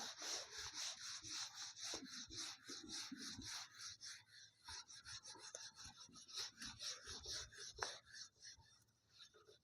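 Writing is erased from a classroom board with an eraser in quick, repeated back-and-forth scrubbing strokes, close and fairly clear, with a few knocks and brief pauses between bursts.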